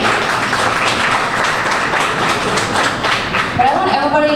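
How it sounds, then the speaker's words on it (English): Audience applause for the evening's speakers at a Main Street community event, a dense steady wash of clapping throughout, with a faint tonal sound entering near the end. "If everybody can give you guys a round of applause,"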